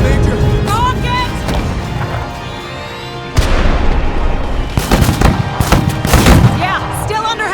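Heavy gunfire and explosions in the tactics video game MENACE: dense, loud bursts and booms crackle continuously, with sharp cracks layered over a sustained roar while voices talk over the combat.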